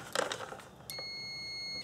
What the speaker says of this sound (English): you'll hear an audible alarm from the multimeter